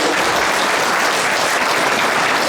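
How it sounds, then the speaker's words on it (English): A town hall crowd gives a dense, sustained round of applause, loud and even, a continuous wash of many hands clapping with no pauses. "a huge round of applause for Jeremy for doing it, inspiring us."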